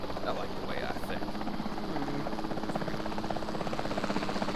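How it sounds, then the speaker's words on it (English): Capture team helicopter in the video game Jurassic World Evolution 2, with a steady rotor thump and engine drone running continuously under a person talking. "Then the sensible thing is to take a capture team helicopter. You can track it from the air."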